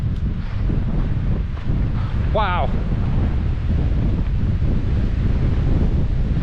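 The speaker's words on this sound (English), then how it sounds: "Hopefully, there's not as much wind noise through here." Cold, gusty wind roars and buffets the microphone without letup on the Blue Mountain section of the Bruce Trail, with a voice briefly exclaiming partway through.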